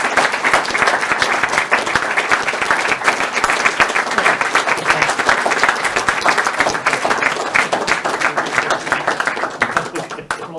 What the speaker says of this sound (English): I think it's the right time to give a big round of applause.